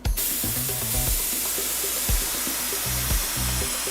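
Spray gun hissing paint onto an airplane in a desert aircraft boneyard, loud sputtering bursts that start and stop with uneven pressure over a few seconds.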